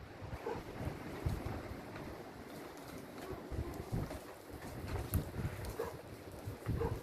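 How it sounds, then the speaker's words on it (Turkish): Wind gusts buffet and rumble steadily, a low blustery roar swelling and easing throughout with no voices. "rüzgar var dışarıda"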